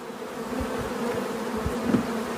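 Leftover honeybees from a lost hive drone loudly and continuously close by, a steady buzzing hum with slight swells as they fly around.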